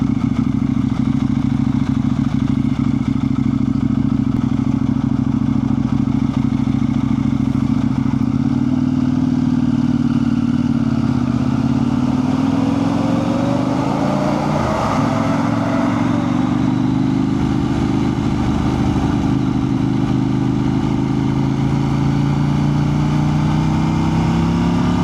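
Motorcycle cruising across a highway, a loud continuous engine drone with wind rush and a rising pitch shift midway as it accelerates, no talking.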